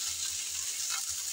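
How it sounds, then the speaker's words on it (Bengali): Taki fish fries in hot oil after being flipped to the other side, giving a steady close sizzle with soft low bumps from the pan. "একটা সাইড ভাজা হয়ে যাওয়ার পর আমি আরেকটা সাইড উল্টিয়ে দিচ্ছি।"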